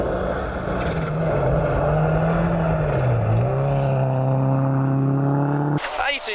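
A rally car runs through a stage at Rally Otago in New Zealand, its engine note loud and steady, then rising in pitch as it accelerates and shifts, ending with an abrupt change as it passes.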